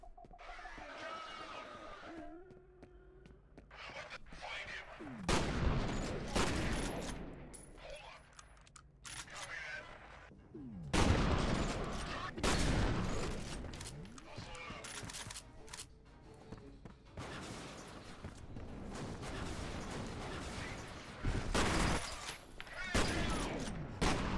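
Shotgun blasts in the shooter game F.E.A.R. Extraction Point: a rapid series of loud, sharp reports in irregular bursts, with a brief quieter stretch near the start and clicks and clatter between shots.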